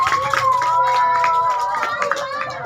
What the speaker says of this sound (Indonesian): Yo, tepuk tangan sekali lagi buat Asri.